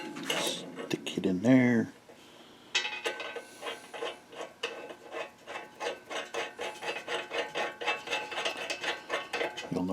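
A metal nut is worked into a wrench, first with brief handling noises under a spoken voice, then a long run of quick, evenly spaced metallic rasping clicks, close and moderately loud.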